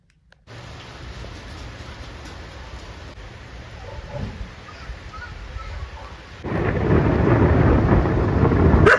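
Thunder rumbles through a thunderstorm, a low rolling growl building steadily before a louder burst near the end, with rain hiss and faint birdsong underneath.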